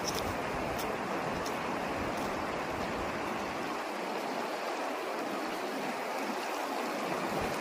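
Steady rushing water of the Kaba River fills the whole stretch, a continuous broadband flow like a nearby stream, with faint low rumble fading partway through.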